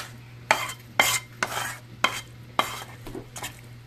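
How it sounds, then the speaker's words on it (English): Quinoa, onions and garlic going into a hot pan, with a low sizzle under repeated scrapes and stirs of a utensil, about six sharp strokes close up over a steady hum, no talk. "I'm going to put the quinoa in, the onions and garlic"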